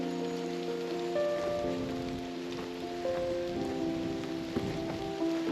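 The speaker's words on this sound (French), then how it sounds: "il commence à pleuvoir" Rain starts falling on a mountain hiking trail near Entrevaux, a steady close patter of drops on surfaces with scattered louder taps, heard alone with no voices.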